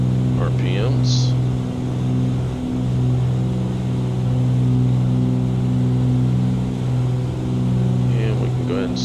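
Twin piston engines of a Cessna 414 in MSFS 2020 drone in a steady, loud hum after being throttled back, with brief voice sounds over the engine.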